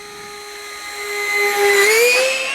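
An EFlite FJ-2 Fury 15 model jet with a 70mm electric ducted fan makes a low pass, a steady high whine that swells louder and bends upward in pitch as it passes near.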